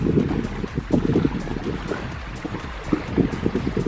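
Gusty wind buffets the microphone in uneven rumbling bursts, loud and close, with no voices, at Anjuruli Munambu.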